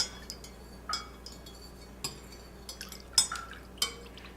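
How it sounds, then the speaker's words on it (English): A spoon stirs about two liters of homemade limoncello mixture in a container, giving close, irregular clinks and taps with soft swirling between them. No one speaks. "So give it a bit of a stir"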